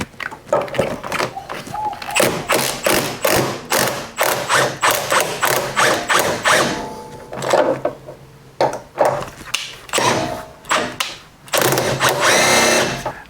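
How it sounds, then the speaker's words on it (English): An impact gun works on a front suspension bolt of a Ford Falcon BA/BF, giving loud repeated rattling bursts of hammering with short pauses between them, close up and with no talk. "Hopefully an impact gun will get that off."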